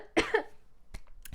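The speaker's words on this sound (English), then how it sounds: "I'm coughing more than ever." A single person coughs twice in quick succession, close and fairly soft, followed by a couple of faint throat and breath sounds in a quiet room.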